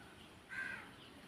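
A single crow caws once, faint and distant, over a steady hiss of outdoor background noise.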